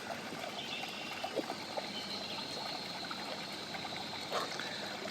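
A part-Newfoundland water rescue dog swims out into open water on a morning outing, its paddling heard as a steady low trickling and splashing of water, fairly faint and continuous with a few small splashes.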